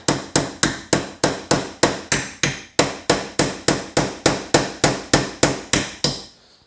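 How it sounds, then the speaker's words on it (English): RoverTac multi tool axe used as a hammer to drive a small nail, giving about twenty sharp metallic strikes in a steady, even rhythm, close and loud, with no talking. "This is also a hammer. So we got a little nail here."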